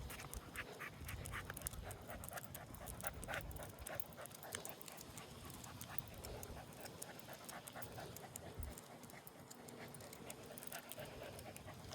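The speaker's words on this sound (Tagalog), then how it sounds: "hinihingal na siya" A tired dog pants steadily and continuously after a long walk outdoors, the breathing close and fairly loud against a busy background, with no clear talk.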